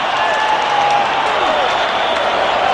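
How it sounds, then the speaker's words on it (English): A rugby stadium crowd at a South Africa versus New Zealand match roars in celebration, a loud, dense and steady wash of cheering and applause that holds unbroken from start to finish. "And the crowd celebrate."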